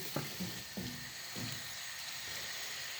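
Ground meat browning in a pan for homemade spaghetti bolognese gives a soft, steady sizzle, with a few light scraping and stirring knocks near the start, fairly quiet and with no talking.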